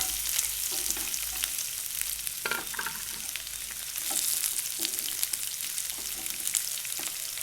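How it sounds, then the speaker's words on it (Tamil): Onions sautéing in a pan for chicken korma, a steady close sizzle and crackle broken by occasional scrapes and stirring clunks, with no voices. "வெங்காயம் லேசாக பொன்னிறமாக வர வரைக்கும் வதக்கிக்குங்க"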